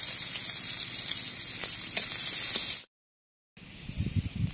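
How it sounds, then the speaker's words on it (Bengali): Chopped ginger and garlic frying in a spoonful of white oil in a kadai give a steady, close sizzle. It breaks off into a short silence, then returns with stirring clatter. "আদা কুচা রসুন কুচানো ভাজা হয়ে গেছে"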